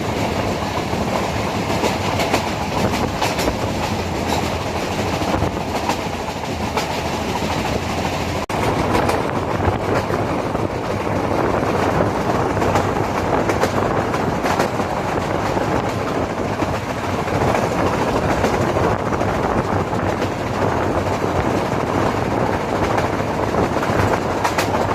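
A metre gauge passenger train runs from Junagadh to Sasan Gir, its wheels clattering in a steady clickety-clack under a constant loud rumble that lasts throughout, heard from on board.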